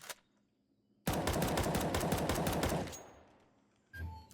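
Sustained automatic gunfire in CS2, sprayed through the mid lane: a dense, rapid burst of shots running about two seconds after a faint opening shot, then tailing off, with a brief thump and click near the end.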